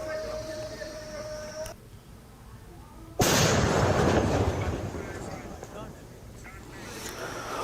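A controlled detonation of a suspicious bag by a bomb disposal team: a sudden heavy blast bursts in partway through, followed by a long rumbling roar that slowly fades, with background noise before it.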